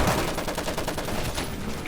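Rapid bursts of upgraded gunfire in the zombie shooter World War Z, dense overlapping shots crackling in quick succession throughout, loud and close with no speech.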